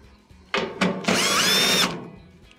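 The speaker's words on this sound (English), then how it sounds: "Remove these 2 1/4-inch screws" A power drill backs out 1/4-inch screws from the top panel of a Whirlpool dryer: two short taps of the trigger, then one sustained whirring run of almost a second, close and loud.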